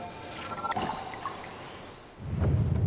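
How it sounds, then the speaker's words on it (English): Water pours and splashes in Zelda: Breath of the Wild during Mipha's Trial, a soft, steady flow that swells into a louder, low rushing surge near the end. "That water sound is satisfying as all hell."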